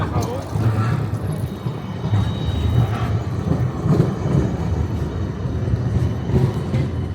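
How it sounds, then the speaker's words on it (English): A modern low-floor electric tram on Amsterdam's Route 2 gives a steady low rolling rumble with faint rail whine throughout, while a voice talks over it. "The trams operating on Route 2 are part of Amsterdam's modern low-floor electric fleet."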